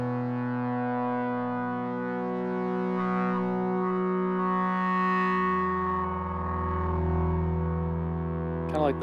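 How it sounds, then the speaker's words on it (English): A sustained ambient synth pad built in Ableton Live's Wavetable with distortion added holds a rich, buzzing chord that swells, gains a deeper growling low end partway through, and ends with a brief glitchy burst. "This basically just gives it a bit of distortion."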